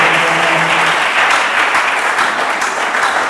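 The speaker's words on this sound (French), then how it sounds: "Acclamons encore le Seigneur ce soir" A church congregation claps loudly and continuously, dense close applause filling the space with no pauses and no voices above it.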